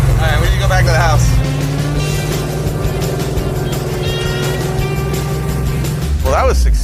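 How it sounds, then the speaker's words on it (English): A 455 Oldsmobile-powered Mazda mini-truck rumbles loudly with a deep, throbbing exhaust note while driving around the block, someone talking over the engine throughout. "This car ran and drove all the way around my block"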